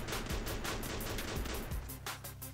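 Dense, continuous gunfire and blasts from grenade explosions in the mobile battle royale game Garena Free Fire, loud and close with rapid overlapping shots, no talking.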